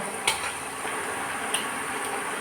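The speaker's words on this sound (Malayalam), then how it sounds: "ജസ്റ്റ് ഒന്ന് ഫ്രൈ ചെയ്തെടുത്താൽ മതി" Prawns shallow frying in a pan for a green chilli and pepper prawn pickle, giving an even, continuous sizzle with a couple of sharp clinks from a utensil.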